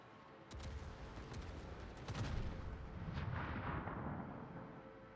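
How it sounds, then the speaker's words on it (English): Naval gunfire salvo in a warship video game: a series of deep booming shots rolling into each other, with sharp cracks at the start and a rumbling, sustained roar that swells and fades, heard fairly faint and without talk. "That's a big salvo back in the Haraguma though."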